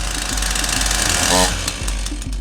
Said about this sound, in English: Pull the starter rope repeatedly and quickly until the engine fires.